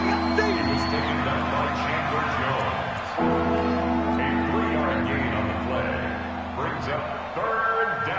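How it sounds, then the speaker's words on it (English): A football stadium crowd roars and cheers steadily through a broadcast, swelling ahead of a big third down, with a commentator's voice running over the loud, continuous noise. "the crowd getting into it as we come up on a big 3rd down"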